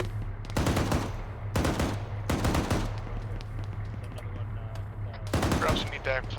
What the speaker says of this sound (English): We got the M2 firing.